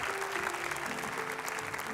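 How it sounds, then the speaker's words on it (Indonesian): Studio audience applause on an Indonesian TV comedy talk show, steady clapping throughout with a faint voice and tonal hum underneath. "Tepuk tangan dulu dong, ya."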